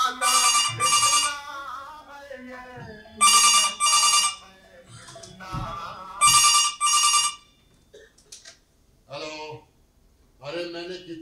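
An old-style telephone bell rings in repeated bursts on a theatre stage during a Hindi play, loud and close, with pauses between rings and an actor's voice and other stage sounds in the gaps.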